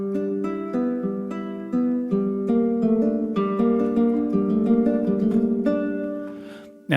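Plucked nylon-string classical guitar from the Zen Garden sample library by Fluffy Audio, playing a gentle melodic passage of clear individual notes and chords, alone and close.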